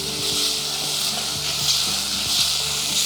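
Turmeric powder being stirred in a sizzling pan for a Vietnamese my quang dish, a continuous frying hiss with a rhythmic series of spoon scrapes and clicks against the pan.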